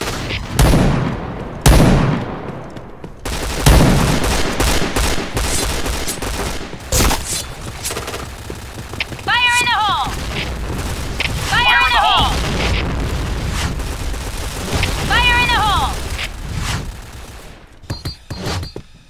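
Grenade explosions and gunfire in the shooter Point Blank, with heavy booms and dense rapid shooting throughout, a voice shouting callouts several times, and rising whistling tones recurring over the battle.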